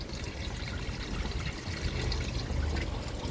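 Water running from the tap of an RO water purification system in a steady, unbroken stream that trickles and splashes at close range, with no voices.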